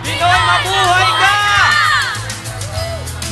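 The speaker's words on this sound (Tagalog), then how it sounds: "gusto naming marinig ang sigaw ng Cebuano" A large outdoor crowd at an EDSA People Power anniversary rally shouts and cheers continuously, loud and close, with whoops and high voices rising over a dense roar of massed voices.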